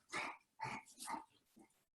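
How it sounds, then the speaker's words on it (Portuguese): A pet dog barks indoors, four sharp, close barks in quick succession, the last one shorter and quieter, with no talking underneath. "se minha cachorra ficar quieta aqui"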